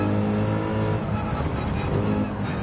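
A Mercedes-AMG race car engine in Gran Turismo 7 drones steadily at high revs for a few seconds, a continuous loud hum with no voices over it.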